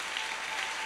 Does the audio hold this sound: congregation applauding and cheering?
yes